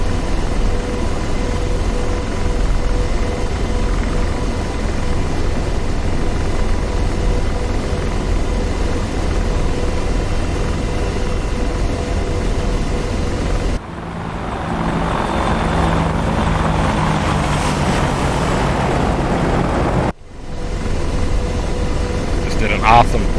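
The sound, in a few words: jet aircraft flyby in DCS World flight simulator video game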